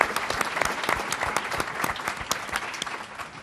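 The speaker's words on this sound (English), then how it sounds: "You might want to save your applause" Audience applause at a book talk on the Kennedy assassination and its commemoration, a dense burst of clapping from a crowd that stays loud and fades slightly at the end.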